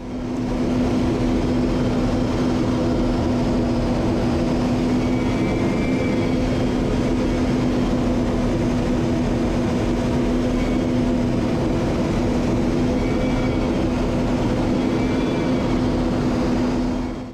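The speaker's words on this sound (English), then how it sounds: "The Red Arrow celebrating the Platinum Jubilee by flying over Buckingham Palace." A Red Arrows jet makes a low pass over Buckingham Palace for the Platinum Jubilee, producing a loud, continuous engine roar with a steady droning hum that holds unbroken throughout.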